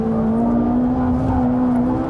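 A Ferrari 458 Italia sports car drives on a track, its engine holding a loud, steady high-revving tone with a close rumble beneath.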